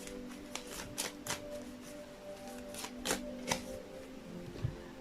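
Heart-shaped love oracle cards are shuffled by hand in a run of soft, crisp riffling flicks and taps, fairly quiet and close, with a faint hum underneath.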